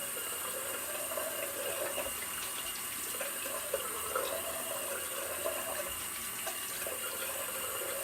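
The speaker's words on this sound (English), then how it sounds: "Do a quick rinse off." Water runs steadily from a tap for a quick rinse after shaving with Gillette Pure shave cream, a continuous close splashing stream with no talking.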